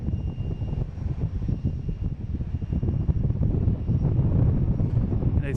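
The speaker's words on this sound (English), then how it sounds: "We have a JetBlue taking off to Orlando." A JetBlue Airbus A321 jet takes off, its engine roar a steady, loud low rumble that holds and builds slightly throughout, heard alone without talk.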